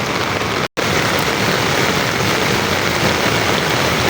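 Floodwater from a flash flood after heavy overnight rain rushes loudly in a dense, continuous hiss and roar, close and unbroken apart from a brief cut, with no voices.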